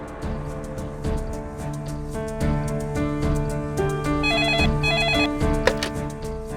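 A telephone rings loudly and steadily with a repeating electronic ringtone melody, playing alone without talk.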